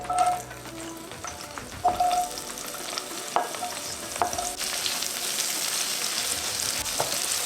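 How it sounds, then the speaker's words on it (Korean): Onion and meat stir-frying in chili oil in a hot pan for mapo tofu, a steady close sizzle with occasional spatula scrapes and clinks against the pan. "고기를 먼저 볶아줍니다."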